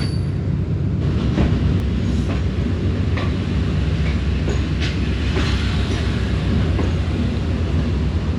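A stationary Karakoram Express passenger train at a station platform, with a steady low rumble of engine and rail noise throughout, plus scattered clanks and thuds and faint distant station sounds.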